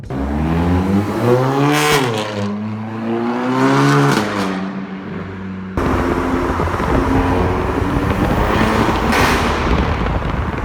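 A VW MK7 GTI with a CTS downpipe and muffler delete revs loudly up and down in close, rising and falling sweeps, then settles into a steady, raspy, harsh roar.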